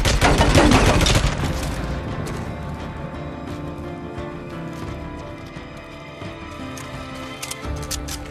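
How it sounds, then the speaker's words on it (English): A heavy automatic gun burst in Days Gone opens loud and fast, a dense rattle of rounds for about a second, then fades into a rumbling, echoing tail with distant scattered clatter and no talk over it. "Heavy guns."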